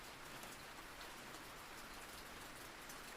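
Soft continuous rain falling, a smooth even hiss of many drops on surfaces, gentle and unbroken, with no voices.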